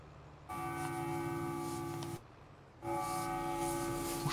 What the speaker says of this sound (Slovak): Už išiel vlak.